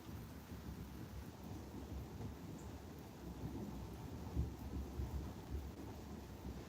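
Steady rain falling on a farm with mango trees, a continuous dense patter with low rumbling underneath, faint and distant throughout with no voices.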